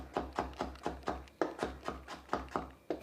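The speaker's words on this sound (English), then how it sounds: "I'm chopping the red capsicum." A knife chops red capsicum on a board in quick, regular strokes, about a dozen crisp taps in three seconds, close and fairly soft with no talking.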